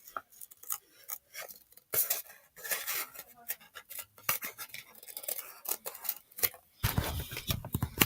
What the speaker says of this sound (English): I'm cutting out the circle in here